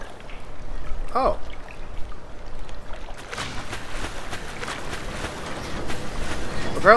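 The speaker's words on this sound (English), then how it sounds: "Apparently that drained the water also." Water drains away in the Black Mesa video game, a soft continuous trickling and pouring wash with scattered splashy clicks and a brief vocal sound near the start.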